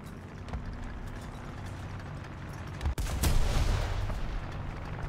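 Tank cannon fire in War Thunder during a Panther II battle, a steady engine rumble broken near the end by a sharp, loud gun blast with a lingering roaring tail, no speech.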